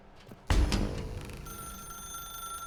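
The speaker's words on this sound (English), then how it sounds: "Now pick up the phone." In the video game The Stanley Parable, a telephone bell starts abruptly with a sharp clang, then rings on in a sustained, shimmering tone that fades slightly, with no voices over it.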